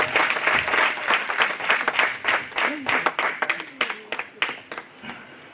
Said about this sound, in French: On peut applaudir pour le Seigneur pour notre prière dernière de Seigneur.